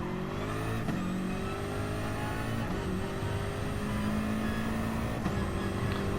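Race car engine in Gran Turismo Sport, loud and continuous, rising in pitch through each gear and dropping at three shifts, with no talk.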